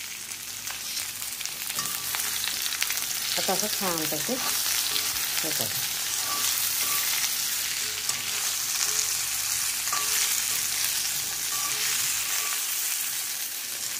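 Okra frying in hot oil with cumin and curry leaves, a loud continuous close sizzle and crackle throughout, with someone speaking briefly over it.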